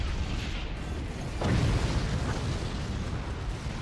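A howitzer shell explodes in the strategy video game Forts, a loud deep boom swelling out of steady dense rumbling battle noise.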